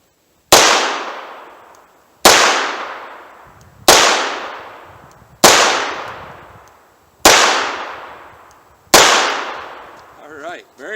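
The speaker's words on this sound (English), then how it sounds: "I'm going to fire a few more rounds, and then we'll see how the snub nose revolver handles them" Six loud, sharp gunshots from a snub-nose revolver firing heavy .38 Special 200-grain rounds ring out at a steady, unhurried pace, each crack followed by a short decaying echo, close and unaccompanied by talk.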